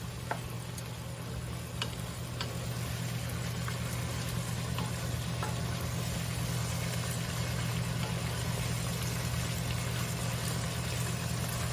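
Bacon frying in a regular high-sided pot for Greek-style two-cheese baked penne, a dense steady sizzle over a low hum, with faint occasional crackles and no speech.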